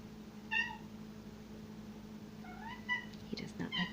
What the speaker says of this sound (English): my cat really wants to talk to us right now